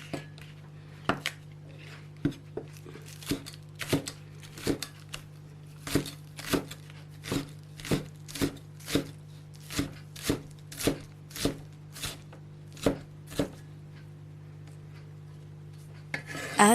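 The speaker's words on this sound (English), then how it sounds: "First, cut the stalk of spring onions in small rings." A knife chops spring onion stalks into small rings on a board: roughly twenty crisp, evenly spaced strikes at a steady rhythm, up close and alone over a faint low hum.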